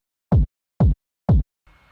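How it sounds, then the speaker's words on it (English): Three punchy, processed lo-fi house kick drum hits land evenly about half a second apart, each a short, deep thump in clean silence, followed by a faint low tail. "So the kick sounds like this."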